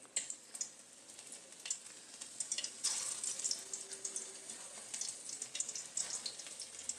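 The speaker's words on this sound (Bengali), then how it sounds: "এরকম আকৃতি করে ভেজে নেব।" Shrimp and grated-potato fritters deep-fry in oil, producing a soft, fairly quiet bubbling sizzle with irregular crackling pops that swell midway, without any voices.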